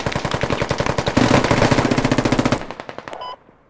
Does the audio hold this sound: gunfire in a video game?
yes